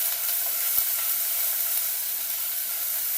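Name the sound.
ginger garlic paste frying in hot oil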